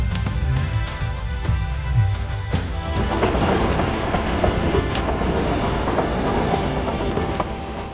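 A Delhi metro train runs steadily along the track, its continuous rolling rumble and rattle of the cars carrying on throughout with faint clicks of the wheels, fairly loud and close, with no voices.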